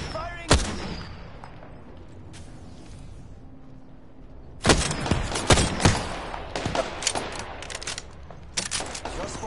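Gunfire in a video game match: a sharp early shot, then dense bursts of firing and blasts that rise, clustering in the second half over a steady background din.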